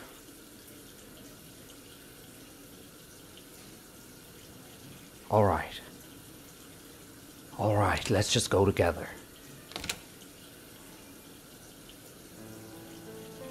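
Water runs steadily from a tap into a bath, a continuous low wash under the whole stretch, with people talking briefly over it and a few splashes.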